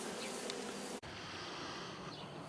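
A dense, continuous hum of honeybees comes from hives in a village apiary toward evening, steady and fairly close, with a brief break partway through.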